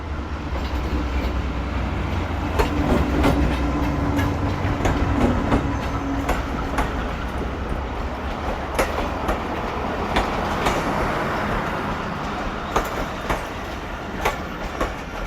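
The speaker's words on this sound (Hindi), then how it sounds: "ये AG30 के साथ एक अदर ट्रेन आ रही है" Allama Iqbal Express of Pakistan Railways passing close by, a steady loud rumble of rolling wagons with rhythmic clickety-clack over rail joints and occasional sharp clanks, with no voices.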